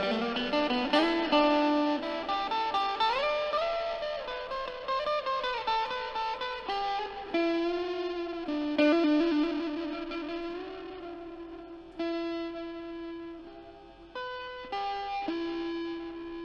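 An electric guitar through an EHX Lumberjack Logarithmic Overdriver pedal plays a melodic line with a gritty, distorted edge and a lingering reverb tail, no voices.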